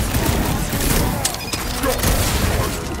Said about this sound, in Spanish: ¡Rocket! ¡Fuegos artificiales!